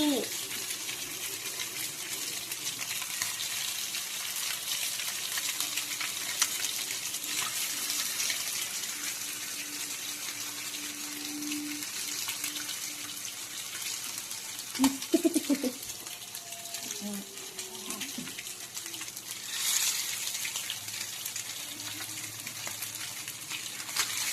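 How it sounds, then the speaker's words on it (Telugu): Pieces of fish for Apollo fish fry sizzle in hot oil, a steady, bright hiss that runs throughout with a few brief pops and clatters, and a voice is faintly present beneath it. "నూనె వేడెక్కిన తర్వాత ఒక పీస్ వేయండి"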